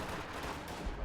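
Zeroing artillery in a Company of Heroes 2 battle: dense, continuous rumbling barrage noise with scattered impacts blurring together, steady and fairly loud throughout.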